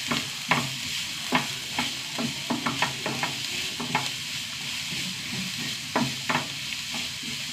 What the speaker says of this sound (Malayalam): സവാള നന്നായി വാടി വരട്ടെ